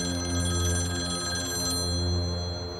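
Close, loud telephone bell ringing steadily with a bright metallic trill, which cuts off partway through while a lower hum continues.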